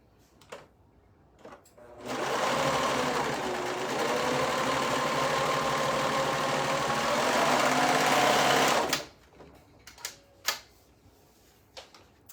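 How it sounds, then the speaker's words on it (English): A sewing machine runs in one steady, loud burst of about seven seconds, stitching the long top edge of two fabric dress tops together, with faint handling clicks before and after. "I'm going to sew along that top part on the long side"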